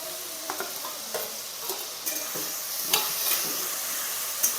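Spices frying with already-fried tomato and onion in a pan for a fish curry, steady sizzling with occasional scrapes of stirring, close and continuous.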